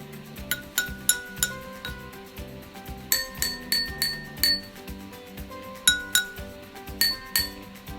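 Water-filled drinking glasses struck like a xylophone ring out in a quick, lively sequence of bright clinking notes at different pitches, some in rapid pairs, close and clear with no talking.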